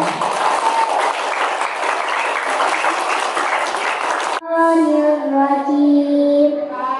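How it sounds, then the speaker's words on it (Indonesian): A crowd of children and adults at a school Maulid Nabi celebration gives sustained, loud applause for the teachers; after about four seconds the clapping stops abruptly and a voice begins reciting. "Tepuk tangan untuk Bapak Ibu Guru yang luar biasa"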